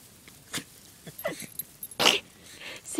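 A dog splashes and plays in water, with scattered splashes and short snorting or sneezing sounds close by, moderately loud and fairly sparse.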